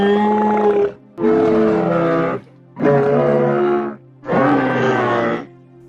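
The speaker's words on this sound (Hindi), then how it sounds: "डेस्मोस्टाइलस की आवाज कुछ इस तरीके की थी।" Reconstructed call of the extinct Desmostylus, an ancient marine mammal: four deep, groaning roars, each about a second long with short pauses between, loud and close with no voices.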